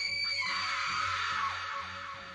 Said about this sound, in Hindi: उसने अपनी डरावनी चीख छोड़ी